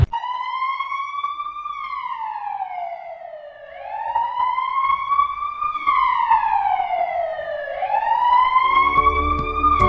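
An advanced life support ambulance siren wails loudly and close, rising and falling in slow repeated sweeps, heard alone without voices.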